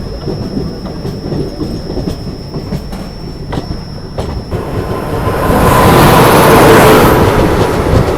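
The Tulsi Express rolls past on an Indian railway line. Loud steady wheel rumble and rhythmic clickety-clack build up and swell into a heavy, close roar near the end.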